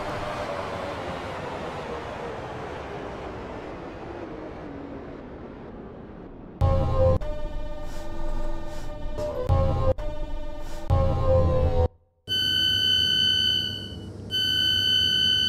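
Train in the Roblox game Stepford County Railway on a Stepford Connect run, a rumbling run slowing, then electronic tones and beeps from the train.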